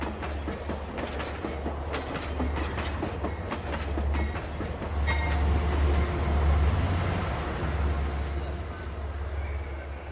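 A moving passenger train, a steady low rumble with rhythmic clickety-clack of wheels over rail joints, continuous and fairly loud.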